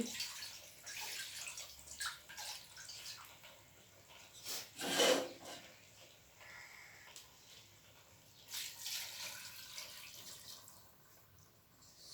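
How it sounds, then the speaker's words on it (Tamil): Water that was used to rinse a stone grinder is poured into an iron pan, giving soft splashing and trickling in irregular bursts, with one louder gush midway and another later, fairly quiet overall with no speech. "இதோ ஆட்டாங்கல் கழுவி எடுத்துகிட்டு வந்த தண்ணீர் இதையே முதல்ல அந்த இரும்பு சட்டியில் ஊற்றி"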